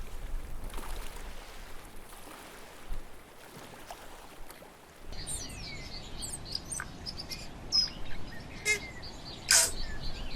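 Island birdsong in the open air: bird chirps and calls come in scattered bursts, some sharp and near, over a soft background hiss with faint insect-like buzzing.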